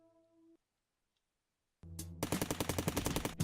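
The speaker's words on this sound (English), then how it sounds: "Oh, and we have a new gun too. The assault rifle." An assault rifle in the Cally's Trials video game fires a rapid, loud burst of automatic shots after a brief silence, the rattle continuing to the end.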